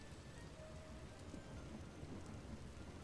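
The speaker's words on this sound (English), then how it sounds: "I hate that some areas it's like constant rain." Steady rain falls in the video game Vintage Story, a dense, constant hiss of drops with a low rumbling undertone, even and unbroken throughout with no talking.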